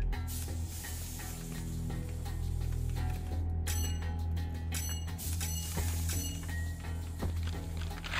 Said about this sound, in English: You just hear my smoke grenades rolling around.